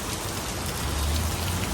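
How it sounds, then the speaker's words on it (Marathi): Heavy rain pours down steadily, a dense continuous hiss of drops drumming on a surface, with no voices. "खूप जोरात पाऊस आहे"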